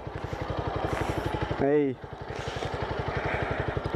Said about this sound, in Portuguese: Olha o escapamento aí, ó. É o cromo forte.